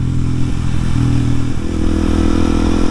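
A 2023 Kawasaki KLX 230SM motorcycle engine running steadily nearby, its pitch stepping up a few times as the throttle changes, with no talk over it.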